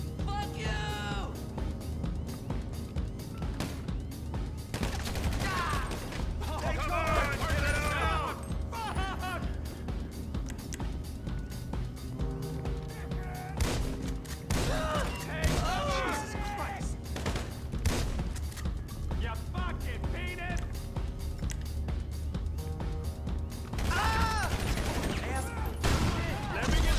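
Repeated bursts of gunfire in GTA 5 Online during a submarine heist, sharp shots and rapid volleys scattered throughout, loud and close, with someone talking over them at intervals.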